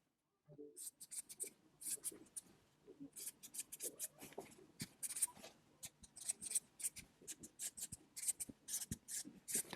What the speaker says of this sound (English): bear with me for a minute while I write some stuff down